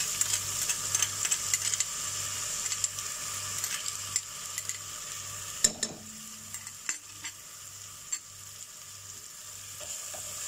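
Yogurt frying with mutton in a pan gives a faint, soft sizzle, broken by sharp scraping and tapping clicks from stirring, over a low, regularly pulsing background hum.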